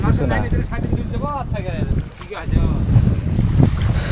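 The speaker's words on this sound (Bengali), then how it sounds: "এত ঢেউ এবং নৌকা 2-3 হাত উপরে উঠায় নামায়" A boat rocks over choppy waves on the Padma River with steady wind roaring across the microphone, and voices talk faintly underneath.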